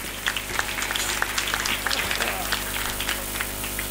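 Scattered applause rises from the audience at a Hindi comic poetry gathering, moderately loud and uneven with distinct claps over a steady hum, with some murmuring beneath.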